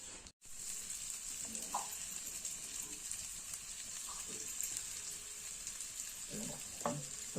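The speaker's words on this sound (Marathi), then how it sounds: "तेल तापला ना कांदो भाजतो" Onions fry in hot oil in a heated kadhai for a Malvani-style prawn dish, giving a steady soft sizzle with a few light stirring knocks and scrapes, fairly quiet and without talk.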